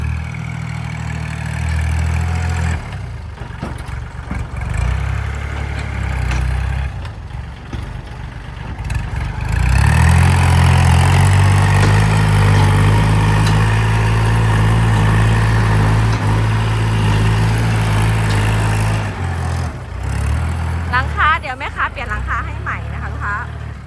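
A used 2015 Kubota L3208 SP farm tractor sits with its engine idling, a steady low rumble that runs throughout under someone talking nearby.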